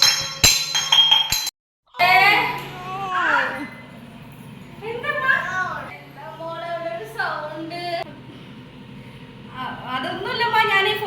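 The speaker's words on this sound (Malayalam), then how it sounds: "ഞാൻ ഫോൺ വിളിക്കുന്ന സമയത്ത് ക്ലാസ് താഴെ വീണതാണ്" A drinking glass falls to the floor in a home, giving a sharp clink and breaking near the start before voices talk over the rest.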